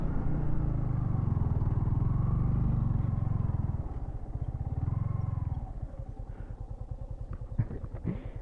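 Yamaha MT15 motorcycle ridden off-road on a rough path in the morning, its engine droning steadily up close before easing to a throbbing idle with some bumps and clatter near the end.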